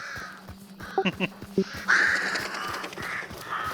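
Crows caw in the Hunt: Showdown video game, a cluster of harsh calls near the start followed by a longer, louder caw, with a few softer calls and players talking briefly.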